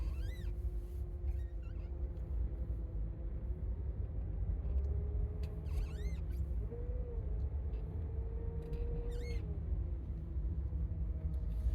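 A car being driven on the road, a steady low engine and road rumble heard from inside, with a faint rising and falling tonal whine and occasional high squeaks over it.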